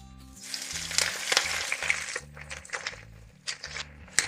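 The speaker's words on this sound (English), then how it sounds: "In a large pan, add a drizzle of oil and a clove of garlic and let the garlic brown slightly to flavor the oil." Escarole hits a pan of hot oil flavoured with lightly browned garlic and sizzles steadily and crackles, with a low rhythmic music bed running underneath throughout.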